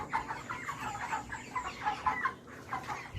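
Broiler chickens clucking in a steady run of short, bright calls at a moderate distance, with no one speaking.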